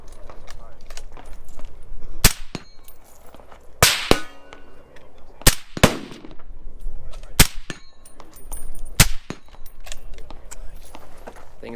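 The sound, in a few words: gunshots at a shooting range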